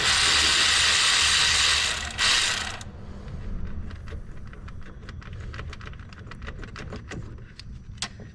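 A ratchet turns out the 8mm bolt holding the camshaft position sensor on a Ford 3.0 V6 engine. A loud rasp gives way to a run of quick, steady pawl clicks, close and without talk.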